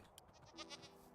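Goat bleats from Minecraft, a few short wavering cries in quick succession over a low ambient game background, close and clear with no talking.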